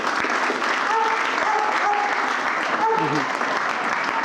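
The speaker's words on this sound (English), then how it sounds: "Can I first have a huge round of applause for our really extraordinary panel." A townhall audience on consumer finance and public protection gives the panel a big, steady round of applause that holds for the whole stretch, with voices faintly over the clapping.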